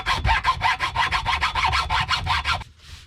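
A turkey wing bone is sawn in half at its widest middle point with quick, steady back-and-forth strokes, about a dozen close rasping passes before the cutting stops.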